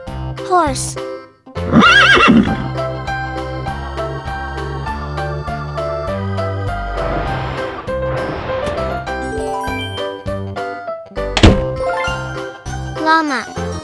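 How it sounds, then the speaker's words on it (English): Over a cheerful children's tune with chimes, a horse whinnies loudly twice, once early and again later, with hoofbeat clip-clops in between. "Horse."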